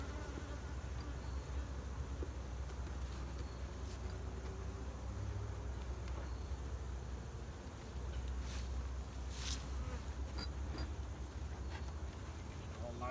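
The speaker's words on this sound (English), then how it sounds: "let's get the bees off of here" Honeybees swarm around an open hive during an inspection and sugar-water feeding, giving a close, continuous buzzing drone that stays steady throughout.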